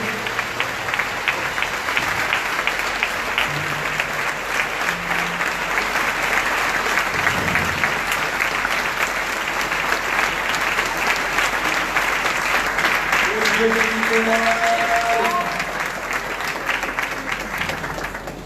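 A worship congregation claps continuously throughout a song, a loud dense wash of many hands in a steady beat, with faint singing voices emerging underneath near the end.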